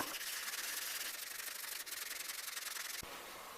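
Hand sanding across the sole of a Stanley 4 Square 1105 hand plane during restoration, a steady rhythmic abrasive rubbing close up, with one brief pause near the end and no talking.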